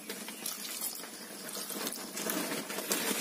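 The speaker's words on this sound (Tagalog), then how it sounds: "So lagyan natin ng tubig." Water poured into vinegar while cooking Filipino pinaksiw fish, a steady close splashing, trickling flow lasting throughout without pause.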